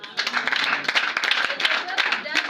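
A church congregation claps and applauds in a dense, loud burst of rapid hand claps that runs the whole time without a break.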